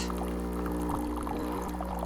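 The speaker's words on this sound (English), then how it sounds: "First, hot water comes out." Hot water streams steadily from an espresso machine with a constant pump hum underneath, a continuous pouring sound throughout.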